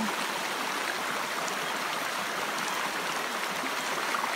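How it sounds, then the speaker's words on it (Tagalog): Steady rushing water of a stream flowing over rocks, a continuous broadband wash with no voices. "Yung agos ng tubig, ang sarap sa pakiramdam."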